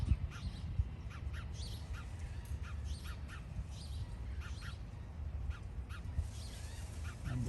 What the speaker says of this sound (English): A bird just enjoying itself on the window ledge that's open.